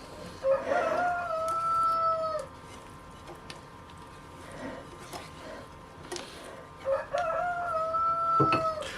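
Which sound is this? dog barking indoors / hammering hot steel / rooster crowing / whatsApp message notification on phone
rooster crowing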